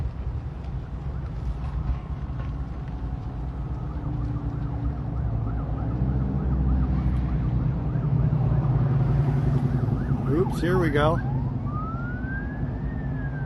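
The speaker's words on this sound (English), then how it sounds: "We've got more sirens" Emergency vehicle sirens wail near a BNSF train derailment cleanup in La Junta, Colorado, rising in the distance under steady traffic rumble, then a clear rising siren sweep near the end, with someone talking briefly.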